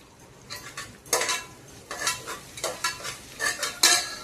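Onions frying in a pan for paya curry, with a low sizzle under repeated bursts of a spoon scraping and stirring against the pan in an uneven rhythm.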